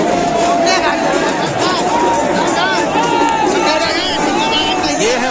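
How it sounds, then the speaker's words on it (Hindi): A dense Holi crowd pushes and jostles at Manikarnika Ghat in Varanasi, a loud, steady hubbub of many voices, shouts and cheers all around with no pause. "काफी ज्यादा भीड़ है, लोग एक दूसरे को पुश करते हुए आगे बढ़ने की कोशिश कर रहे हैं"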